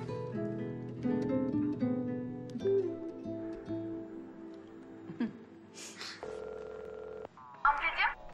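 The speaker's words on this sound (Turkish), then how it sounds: "Neyse ben Eda'yı bir arayayım" Dialing tones beep from a phone, followed by a steady ringback tone as a call goes through, with speech around it.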